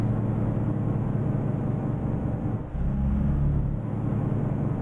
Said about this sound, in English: I'm going to use my engine brake in a city